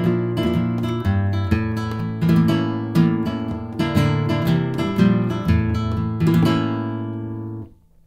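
Rhythmic flamenco guitar strumming in a tangos pattern, close and steady with sharp strums and chords, ringing out and stopping near the end.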